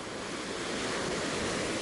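Sea waves wash steadily onto a beach in Alanya, Turkey, in October, forming an even, continuous surf roar with some wind, no voices present.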